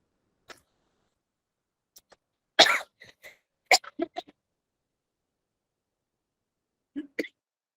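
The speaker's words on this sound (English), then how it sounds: "I was having a very bad bout of cough" Several separate coughing fits, close and fairly loud, with short bursts spread across the clip and quiet gaps between them.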